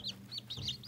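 Several chicks chirp loudly as they are picked up, the high peeping calls coming in quick overlapping bursts, close by, over a low steady background hum with no talking.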